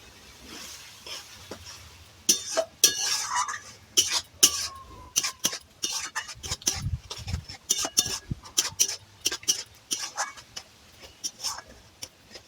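Poppy seed and cashew spice paste with tomato is stirred in a pot over a clay stove, giving irregular close scraping clicks and taps of a utensil against the pot, with quiet speech in the background.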